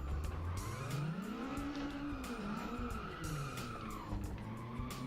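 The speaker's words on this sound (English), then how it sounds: "Even if I try to not let it oversteer a lot, it eventually just starts oversteering more." A car oversteering and skidding in a self-made driving video game, with a long wavering tire squeal over a low engine drone that rises and falls continuously.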